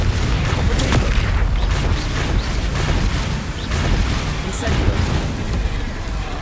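Spell explosions from Confringo and Bombarda in the game Hogwarts Legacy boom and crackle as dense continuous rumbling blasts, loud and close, under a voice shouting spell names throughout.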